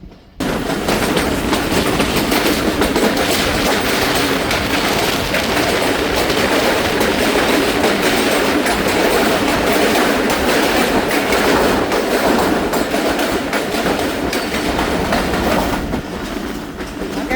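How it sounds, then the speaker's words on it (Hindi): The Thal Express runs at night down a continuous descending grade through tunnels, a loud, steady rumble with constant rattling and clicking of wheels on rails that persists nearly throughout. "यहाँ से कंटिन्यूस डाउन ग्रेड पर ट्रेन जा रही है।"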